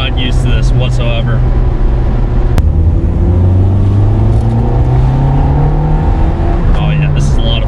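Engine of a 1991 Nissan Pulsar GTi-R hatchback heard from inside while driving, a loud steady drone whose pitch climbs and dips through a gear change, continuous throughout with a brief sharp click partway.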